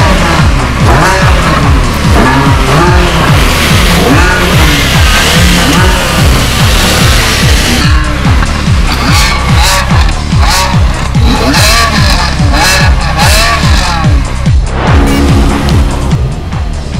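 Race cars roar loudly with tire squeals and skidding throughout, a busy continuous racing scene with engines revving and cars passing close by, no voices heard.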